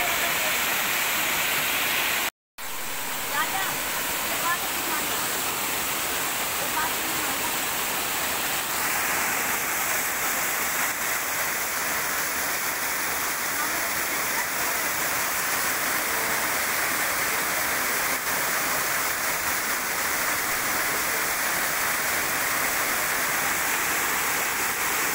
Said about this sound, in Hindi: काफ़ी प्यारा झरना है।